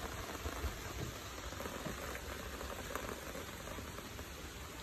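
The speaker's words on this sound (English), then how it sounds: "Oh no, it's raining." Steady rain falls outdoors during a lunch break, giving a dense, even hiss of drops pattering on surfaces close by with no talk.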